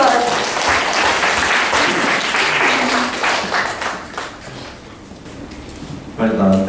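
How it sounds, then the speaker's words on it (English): An audience applauds at the NTU Sports Awards Ceremony 2019-2020, a dense, loud wash of clapping for about four seconds that thins out before a voice begins speaking at the end. "Can we round of applause?"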